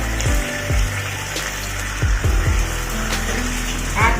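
Water is poured into a cooking pan while making a crispy chicken sauce with soy sauce, giving a few short splashing gurgles with dull knocks and clinks, close and fairly loud, with no talking.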